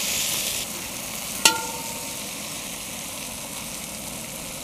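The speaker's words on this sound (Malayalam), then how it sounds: "നമ്മുടെ തിരുതക്കുട്ടന്മാർ ഒരു സൈഡൊക്കെ ഫ്രൈ ആയി വന്നിട്ടുണ്ട്." Thiruta fish (grey mullet) frying in a pan of oil, a steady broadband sizzle throughout with one sharp clink near the start, close and fairly loud with no voices.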